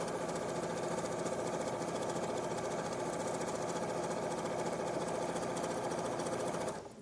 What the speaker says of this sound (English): you'll just sew down the rest of the leg as normal.